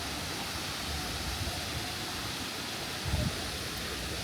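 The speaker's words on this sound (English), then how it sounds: "Okay guys, this is the waterfall." Waterfall near Mount Bromo, Indonesia: a steady broadband rush of falling water fills the clip, loud and constant, with a brief low thump near the end.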